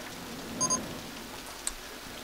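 Soft continuous rainfall in the Rollercoaster Tycoon 3 video game at night, a steady gentle patter with a couple of faint brief tones over it.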